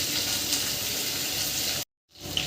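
Malabar spinach (pui shak) frying in a pan gives a steady, close sizzling hiss for nearly two seconds. It cuts off abruptly, then returns faintly.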